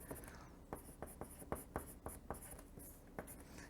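Quick marker or chalk strokes on a board during a fractions lesson, a rapid run of short sharp taps and scrapes, close and fairly faint, with no talk over them.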